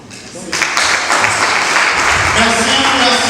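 Audience applause at a gala congress, building suddenly after a brief moment and holding as a loud, continuous wash of clapping, with some voice mixed underneath.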